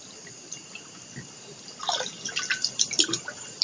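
Water drips and trickles into a bathroom sink basin, starting faint and sparse, then turning into a denser run of close splashes and drops in the second half, with no voices.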